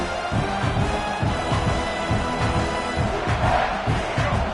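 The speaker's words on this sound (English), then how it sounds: "This crowd trying to make life miserable for this offense." A college football stadium crowd roars continuously, a loud dense wall of cheering and shouting with rhythmic swells, with no clear single voice standing out.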